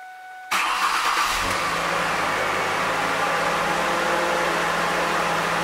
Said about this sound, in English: Truck's running good.